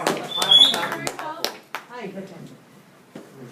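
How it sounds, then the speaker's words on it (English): A short burst of hand claps rings out in a room, sharp and close, then fades into a few scattered claps while voices talk alongside. "Give him a clap."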